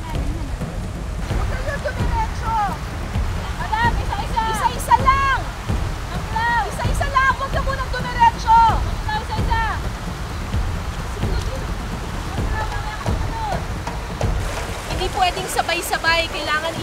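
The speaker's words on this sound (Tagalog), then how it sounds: "Medyo malakas yung current dito sa parting ito ng ilog." A strong river current rushes past in a thigh-deep river crossing, a steady, close wash of water under people talking throughout.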